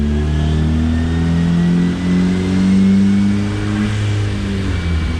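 A tuned Nissan Juke in sport mode with traction control off revs hard in third gear on a dyno, the engine note climbing and wavering loudly and close, alone without speech.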